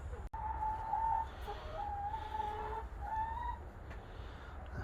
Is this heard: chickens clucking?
yes